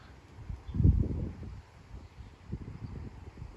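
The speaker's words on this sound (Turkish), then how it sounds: "Çoğaldı çok çoğaldı rüzgar." Strong gusting wind buffets the microphone outdoors where tumbler pigeons are being flown, low rumbling surges rising and falling, loudest near the start, with no talking.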